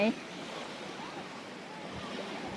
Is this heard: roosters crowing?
no